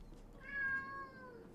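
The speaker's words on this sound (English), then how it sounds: "Oh, what a sad kitty." A cat meows once in a long, drawn-out, plaintive cry, close and fairly clear over a quiet room hum.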